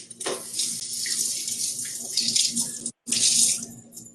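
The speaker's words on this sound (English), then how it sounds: "I'm going to just give it a rinse just a sec." Kitchen tap water splashing over a freshly cleaned perch as it is rinsed, a close, loud hissing stream that cuts out briefly near the end before flowing again.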